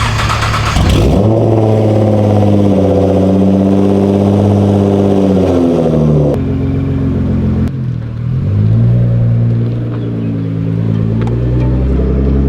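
A Nissan GT-R R35 backing out rumbles loudly up close, its engine revving and rising in pitch, dropping briefly and then climbing again, with no talk over it.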